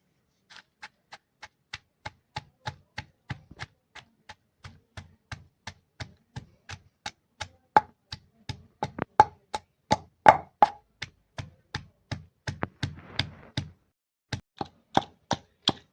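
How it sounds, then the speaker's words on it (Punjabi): Whole spices for a black chickpea curry are pounded by hand, a long run of sharp, evenly spaced thuds, close and fairly quiet, that quicken and grow a little louder midway. "ਹੁਣ ਇਹਨੂੰ ਸਾਰੇ ਮਸਾਲੇ ਨੂੰ ਆਪਾਂ ਕੁੱਟ ਕੇ ਕਰ ਲੈਂਦੇ ਆ ਜੀ ਤਿਆਰ"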